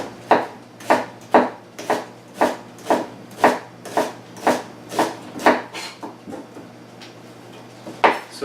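A kitchen knife chops food on a cutting board in an even rhythm of about fourteen sharp, close strikes, slowing slightly near the end, with no talking.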